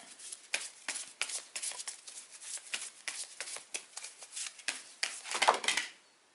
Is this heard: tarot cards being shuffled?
yes